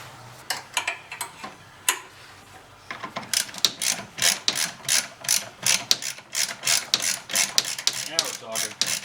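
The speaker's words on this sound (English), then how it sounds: "So let's get a socket in there." A ratchet with a socket turns a rusty nut on a 1986 Mustang GT rear axle, giving a loud, close, rhythmic run of clicking strokes that speeds into a steady cadence.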